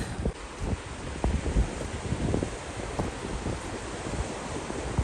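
Steady wind gusts buffet the microphone outdoors on a walk toward Madhuvan, a continuous broadband roar with low thumps, and no voices.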